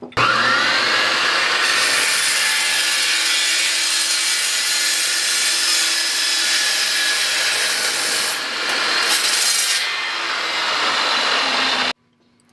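Intercooler piping is cut for a pie cut with a power saw, a loud, close, continuous grinding whine that holds for about twelve seconds, shifting briefly in tone partway through before stopping abruptly.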